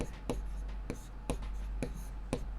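A pen writes by hand on paper during a maths lesson, making rhythmic, close scratchy strokes in regular bursts about every half second.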